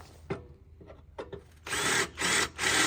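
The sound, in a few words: power drill on mower wheel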